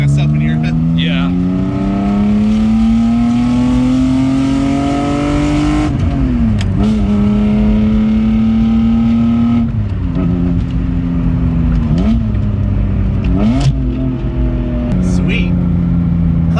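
Nissan 300ZX engine revving and pulling through gears while driving, a loud steady drone rising in pitch with several shift breaks, up close inside the car, with people talking over it.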